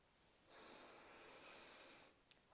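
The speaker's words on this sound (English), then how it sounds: "as you're breathing out through the mouth, also make the sound ha" A deep breath pushed out through the mouth as a long, breathy ha, steady for about a second and a half and fading at the end, close and quiet with no talk.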